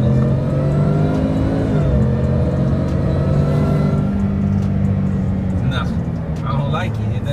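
A 775-horsepower Ford F150 Shelby Super Snake truck engine idles loudly and steadily with a deep rumble and swelling revs, close by and continuous, while people talk over it.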